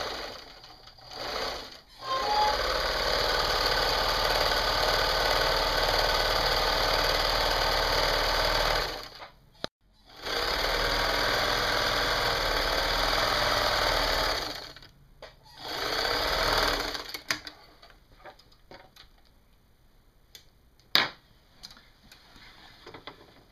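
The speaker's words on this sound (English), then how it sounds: "Let's go to the sewing machine." A sewing machine stitches a wraparound skirt in close, loud runs of rapid even whirring, stopping briefly between seams, then falling quiet with a few light handling clicks at the end.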